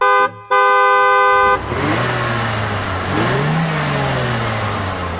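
A car donated by Eurocar sounds a long, loud horn blast, then the engine revs and the car pulls away. The engine pitch rises and falls as it accelerates nearby.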